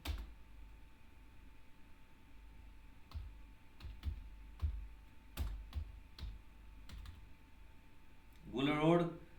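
An address being typed on a computer keyboard, with scattered sharp key clicks at an irregular pace over a faint hum, followed by a brief spoken voice at the end.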